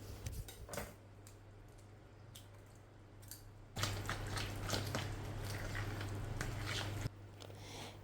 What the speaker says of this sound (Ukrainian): розминаємо його виделочкою